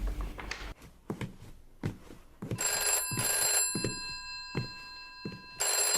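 Telephone bell in a mystery video game rings in repeated bursts, a bright sustained old-fashioned ring cutting in over background clicks and thumps, loud and close.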